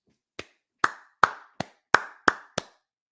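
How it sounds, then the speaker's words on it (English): Seven separate hand claps ring out sharply and close by, spaced unevenly over about three seconds with short pauses between them, in an otherwise quiet space. "Let's take a moment and applaud the New York Knicks"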